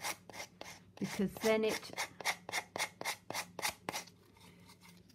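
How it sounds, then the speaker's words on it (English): Sandpaper rubbed by hand along the edge of an old wooden box, a run of short rasping strokes in steady rhythm, close and fairly loud, with a brief spoken phrase partway through. "I'm just going to, with some sandpaper, is just sand off where that edge comes there"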